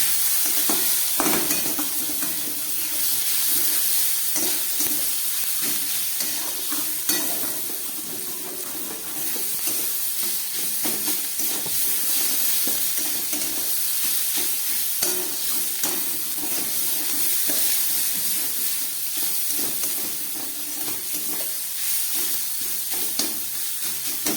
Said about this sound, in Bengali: এবার আমি এটাকে কষিয়ে নেবো